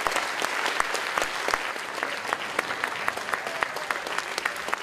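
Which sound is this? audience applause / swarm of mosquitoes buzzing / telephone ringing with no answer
audience applause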